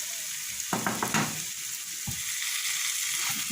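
Kefta meatball mixture fries with onion in a pan, a steady hissing sizzle close by, with a few clattering stirs against the pan early on.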